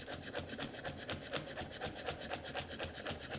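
A knife finely chops garlic on a wooden board for a marinade or dipping sauce, making rapid, evenly spaced strokes in a steady rhythm, close by and unaccompanied by talk.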